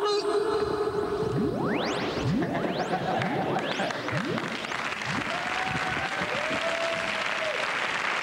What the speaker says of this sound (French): Avis général, on sourit et on applaudit